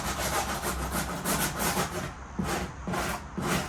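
Rhythmic back-and-forth scrubbing of headliner foam off a 2007 Honda Accord headliner board with a hand brush, close and fairly loud, in repeated strokes with short pauses between them.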